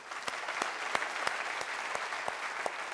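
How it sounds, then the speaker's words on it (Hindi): Audience applause at a live Hindi talk, steady crowd clapping with distinct sharp claps sounding at a regular pace for a few seconds, no talking. "तो अपने लिए जोरदार तालियां।"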